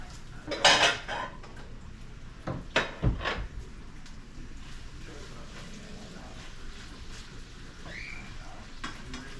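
Carrots are stirred in a pan, with loud clattering scrapes of a utensil against the pan in short bursts early on, then a quieter steady background.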